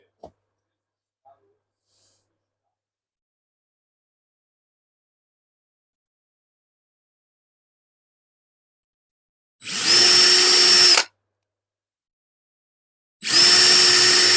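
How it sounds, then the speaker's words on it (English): A power drill bores holes for reed switch legs in a model railway layout, in two separate whirring bursts of about a second each after a long silence with a few faint clicks. "I'm going to drill the holes where my two outside dots are on each line"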